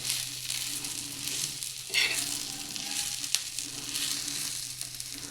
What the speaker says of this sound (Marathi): खोबऱ्याचा किस टाकून घेऊ. छानपैकी परतून घ्यायचं आहे.